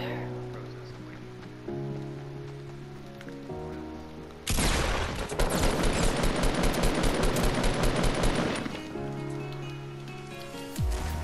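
Fortnite epic tactical submachine gun firing a fast, sustained burst of close, loud automatic shots for about five seconds, set between quieter in-game tones and a voice talking over the game.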